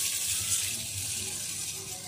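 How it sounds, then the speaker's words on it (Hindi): Water runs steadily into a bowl of rice set out for soaking, a continuous close splash and trickle lasting about two seconds with no talk. "इसमें पानी डाल दिया,"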